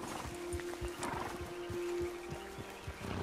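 A horse ridden in Red Dead Redemption 2 gives steady, rhythmic hoofbeats at close range, carried over a continuous low rumble of game ambience.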